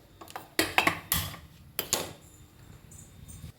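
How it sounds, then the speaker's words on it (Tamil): A metal kadai set down on a stove while making mango pachadi, giving a few sharp clanks and scrapes in a short cluster, then quieter clinks, close and fairly loud. "அடுப்பில் கடாயை வச்சுட்டு"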